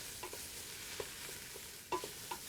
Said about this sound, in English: you need to keep those onions stirred